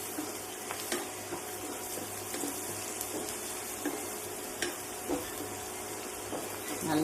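Curry leaves sizzling in hot oil for seeralam, a steady close crackle with frequent sharp pops and stirring scrapes, brief clicks scattered across it.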